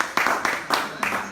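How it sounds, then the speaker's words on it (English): Supporters clapping in a studio, three or four short bursts of hand claps close to the microphone, with voices talking over them. "You can hear our supporters clapping for you."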